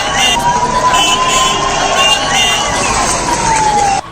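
An ambulance siren wails through a political rally crowd, a loud rising and falling tone over the constant murmur of many people.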